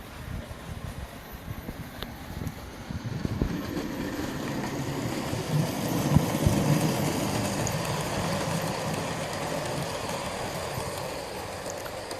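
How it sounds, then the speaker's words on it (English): Model trains rumbling steadily along a track, a continuous low clattering whir that builds slightly and stays level throughout. "Just running these trains around."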